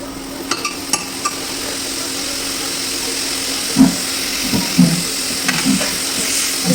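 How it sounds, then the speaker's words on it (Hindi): Chopped onions frying in a pan for a chicken curry gravy give a steady, hissing sizzle, broken by a few soft knocks of stirring. No one talks. "इसे थोड़ा भुनने देते हैं।"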